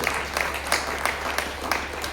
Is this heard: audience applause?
yes